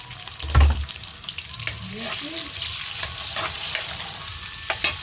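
Onions sizzle in a pan with garlic already browned, a steady close frying hiss broken by a few soft stirring clatters, with no talking.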